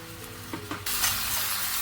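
Onion with ginger-garlic paste hits a hot pan and bursts into a loud, steady sizzle after a couple of faint stirring clinks.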